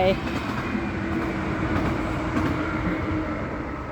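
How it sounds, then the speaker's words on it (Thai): A continuous low rumble of a train running nearby in Norway, steady and droning throughout. "เสียงรถไฟ"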